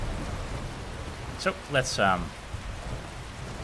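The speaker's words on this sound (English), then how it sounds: "very heavily rainy weather." Heavy rain in the video game Skyrim hisses as a steady, broadband wash throughout, while someone speaks briefly over it.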